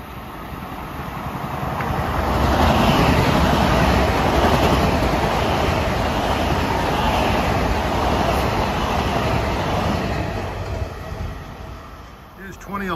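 An LIRR commuter train rolls past on triple track at Carle Place during morning rush hour, building to a loud, sustained rumble and rail roar that fades slightly near the end, with talk faintly underneath.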